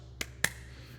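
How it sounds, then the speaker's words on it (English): Two sharp, close claps, a quick pair about a quarter second apart, the second louder, against a quiet studio background with no talk. "you get 2 claps"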